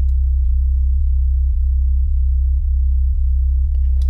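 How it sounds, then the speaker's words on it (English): A deep, pure synthesized sub-bass tone, made in Logic Pro X's ES2 synth, sustained throughout with no harsh popping or clipping, with soft low thumps repeating about every half second. "it's just a pure sub sound without any of the harsh popping or the clipping"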